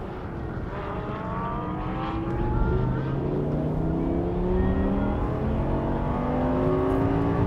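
A 2009 Lamborghini Gallardo LP560-4, all-wheel drive, accelerating on a circuit during a time attack, engine tones climbing steadily through the gears, a smooth sustained whine heard from inside the car with no talk.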